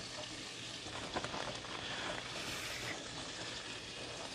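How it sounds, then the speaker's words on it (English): Olive oil and butter melting and sizzling in a hot pan, giving a steady, close crackling hiss that runs unbroken throughout with no talk over it. "We're going to put in a tablespoon of olive oil and a tablespoon of butter. We're going to let that melt."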